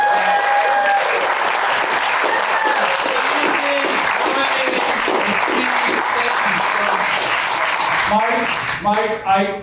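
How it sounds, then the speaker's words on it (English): Loud, sustained audience applause fills the room for nearly ten seconds as a large crowd claps steadily, tapering off at the end as a voice begins to speak. "a huge round of applause for the amazing, incredible Downingtown Thorndale Regional Chamber of Commerce"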